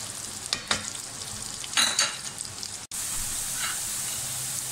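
Onions frying in oil in a karahi while mutton karahi is cooked, a steady sizzle broken by a few scraping stirs of a spoon against the pan, close and loud with no talking.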